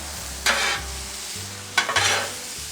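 Shrimp and steak frying on a Blackstone griddle, with a low steady sizzle under two bursts of scraping and stirring from a spatula, heard up close.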